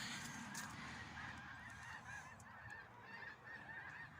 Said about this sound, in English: They sound like snow geese.